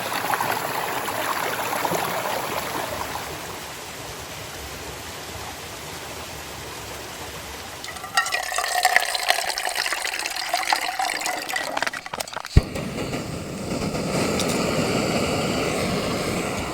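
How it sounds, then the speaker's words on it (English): Continuous rushing water from a river in Yosemite, steady and moderately loud, shifting in tone partway through as if the listening spot moves closer to the flow. "Luckily there's a river right near our spot kinda."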